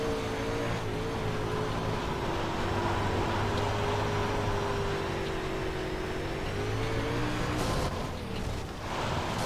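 Engine of a UMP modified race car in iRacing revving steadily near 7,000 RPM, a continuous loud drone with a slight pitch dip and recovery, fading briefly near the end.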